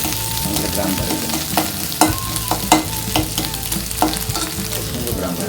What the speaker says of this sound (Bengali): দেখেন চেপা শুটকি সহ পেঁয়াজ কিন্তু আমার ভাজি হয়ে গেছে।